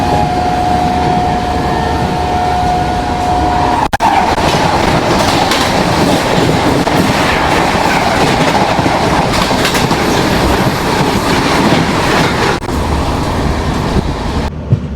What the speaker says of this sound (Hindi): वो आ गई सामने से सोगरिया नई दिल्ली इंटरसिटी।